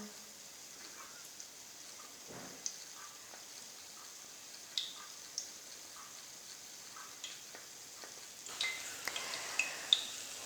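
Gulab jamun balls frying in oil, a faint, soft sizzle with scattered small pops and crackles that grow a little busier toward the end.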